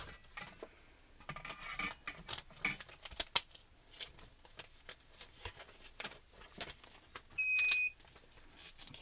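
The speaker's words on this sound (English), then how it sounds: "that's the machine beeping and telling us that it's at the right temperature" A short electronic beep from a Gemini FoilPress machine signalling it has reached temperature sounds near the end amid light tapping and clinking handling noises.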